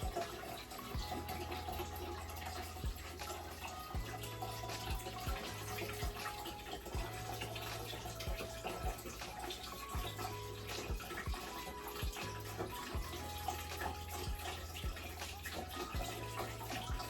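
Lime-flavored rum is poured slowly into a dragon fruit and pineapple drink at a campground, making a faint, steady trickling stream that continues without break.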